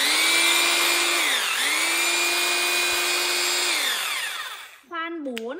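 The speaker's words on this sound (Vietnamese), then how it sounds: "Rồi, khoan bê tông này." A Hukan rotary hammer drill bores into concrete with a loud, steady whine that dips briefly in pitch, then winds down near the end as a voice speaks.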